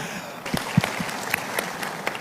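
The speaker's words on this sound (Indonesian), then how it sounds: "Tepuk tangan untuk kita semua, tepuk tangan." Scattered audience applause at an Indonesian presidential candidates' debate forum, starting thin and building into loose, uneven clapping with distinct individual claps ringing out, fairly close.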